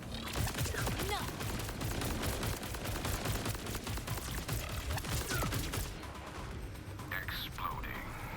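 Borderlands combat: rapid gunfire and missile explosions crackle in dense, continuous bursts, loud and close, easing off near the end, with a voice talking underneath.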